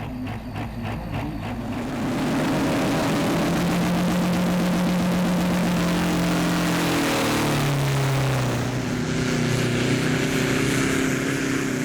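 Bulldog 2, a pulling tractor powered by a 2.3 Mitsubishi engine, roars loudly down the track at a Danish tractor pulling championship, its engine note climbing and shifting pitch as it pulls, a steady close roar after a quieter start.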